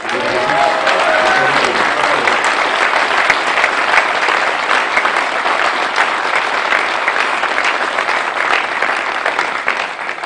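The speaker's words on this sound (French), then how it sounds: "si vous pouviez avoir quelques applaudissements pour les organisateurs" Sustained, loud applause from a crowd at a political rally in La Bazoge, a dense wash of clapping holding steady for about ten seconds with faint voices mixed in.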